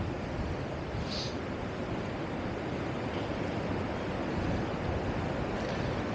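Surf at Llanddwyn beach on Anglesey washes in as a broad, continuous roar mixed with wind buffeting the microphone, steady and fairly loud throughout.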